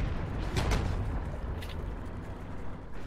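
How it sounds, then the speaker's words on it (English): Heroes and Generals plays a run of deep booming explosions in battle, one strong blast followed by rumbling, scattered bursts at moderate loudness. "I can just see bloody explosion after explosion."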